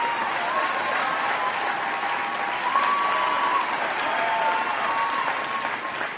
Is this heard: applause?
yes